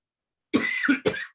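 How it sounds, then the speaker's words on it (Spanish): Two quick coughs close to the listener, the first a bit longer and raspy, the second short and sharp, with silence before them. "Estoy con tos."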